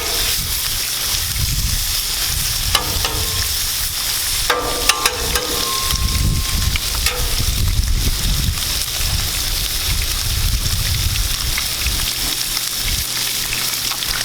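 Cut-up bacon pieces fry on a Blackstone griddle, a loud, continuous crackling sizzle close by, with occasional scrapes and clinks of a utensil stirring the meat.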